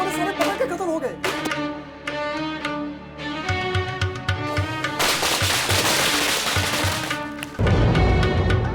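Firecrackers bursting in rapid, overlapping bangs and crackles over about nine seconds, loud and close, with a dense sustained roar of pops near the end; background music and voices run underneath.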